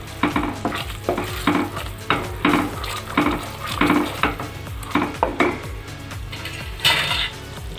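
A utensil stirs reheated sugar syrup in a pan for boondi laddoo. Loud, regular scraping strokes come roughly every half second over a soft bubbling sizzle.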